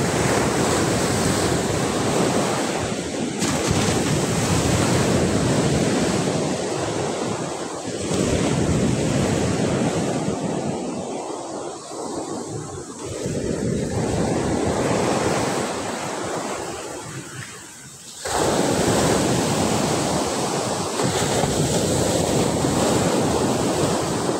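Surf washing onto a beach at Barangay Midol, a surfing spot, with continuous loud crashing and rushing waves, wind buffeting the microphone throughout, and one brief lull midway before the roar returns.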